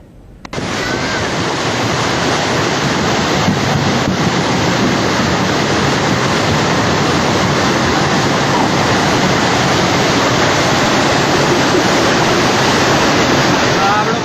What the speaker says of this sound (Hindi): सैलाब का ये शोर और पीछे से मचती चीख पुकार।